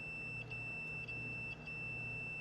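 A multimeter gives a steady, continuous continuity beep as its leads touch an electric stove burner element, a high tone holding evenly throughout.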